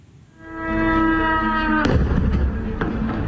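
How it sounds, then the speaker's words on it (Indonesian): At a US military base in Harir, Erbil, Iraq, struck by an Iranian drone attack, a rising tonal wail gives way to a sudden loud blast followed by a deep, lingering rumble. "Ledakan mengguncang akibat serangan drone Iran menyasar pangkalan militer Amerika Serikat di Harir, di Erbil."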